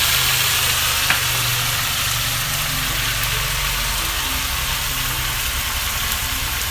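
Spices sizzle in hot oil for a village-style Assamese chicken curry, a steady, loud hiss of frying that goes on without a break. A low hum sits underneath, and no one speaks.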